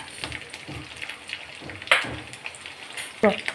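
Garlic and green chilies fry in a pan of hot oil with a bay leaf, giving a soft, steady sizzle broken by a few sharp crackles and spatters near the two-second mark and again toward the end.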